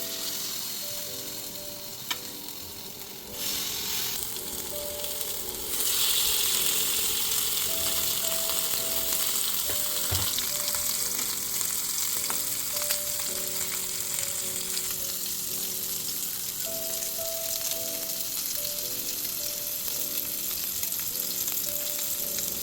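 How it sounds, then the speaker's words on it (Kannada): Mangalore bangude (mackerel) fish frying in hot oil in a pan, a steady dense sizzle with crackling that grows louder after a few seconds and holds continuously, with no talking. "ಇವಾಗ ಒಂದು ಪ್ಯಾನ್ಗೆ ಎಣ್ಣೆ ಹಾಕ್ಕೊಳ್ಳೋಣ. ಈ ಎಣ್ಣೆ ಕಾದ ಮೇಲೆ ಫಿಶ್ನ ಹಾಕ್ಕೊಳ್ಳೋಣ."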